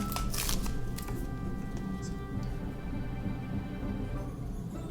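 A mini figure package from an MDZS Wangxian set is opened with a burst of close crinkling and card-like rustling at the start, fading into quiet handling noise.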